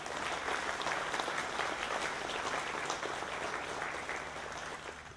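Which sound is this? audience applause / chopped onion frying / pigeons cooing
audience applause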